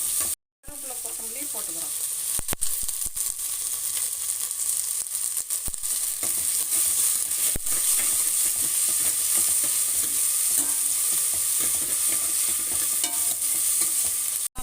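A single tomato fries and is stirred in a pan for drumstick sambar, making a loud continuous sizzle broken by scraping strokes, with a brief voice near the end.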